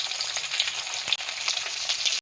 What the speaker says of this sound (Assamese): মই ইয়াত ডাঙৰ ডাঙৰকৈ থোৱা আলুকেইডোখৰ অকণমান ৰঙচুৱা হোৱাকৈ ভাজিম।